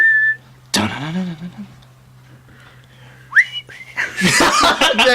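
A person whistles a tune that breaks and cracks, followed by a short sliding whistle and then bursts of laughter close by.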